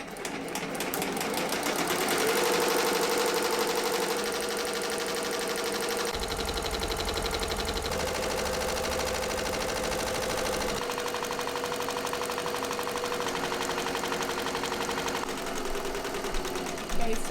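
A sewing machine runs continuously, stitching a side seam bow, its steady rapid mechanical whir and needle clatter loud and close throughout with a slight shift in pitch partway through.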